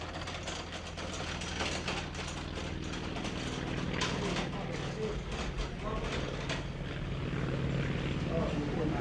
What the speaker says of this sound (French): Parfois, les hélicoptères sont arrivés à les y repérer.